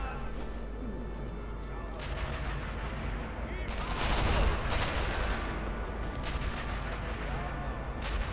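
Bursts of gunfire and a heavy, rumbling blast in the video game Sniper Elite V2, the grenade explosion swelling loudest in the middle over steady low battle noise.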